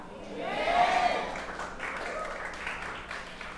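A church congregation applauds during a sermon, a moderate wash of clapping spread through the room that fades gradually, with a voice speaking underneath.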